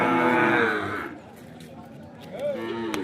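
Ongole cow calves at the Kodad cattle market, one giving a loud, drawn-out moo up close, then a quieter stretch with someone talking and a short call near the end.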